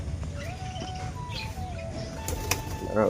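Pigeons flutter and flap their wings as they arrive to eat, with soft wingbeats and faint chirps over a steady electronic whine, ending in a brief louder scuffle.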